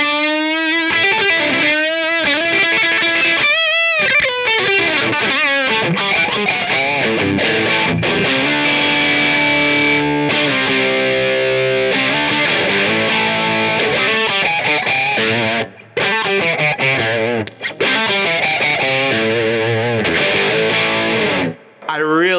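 Electric guitar played through a Catalinbread Airstrip pedal, a Trident A-Range style preamp, into an amp's gain channel: loud, continuous overdriven chords and riffs with a few brief gaps.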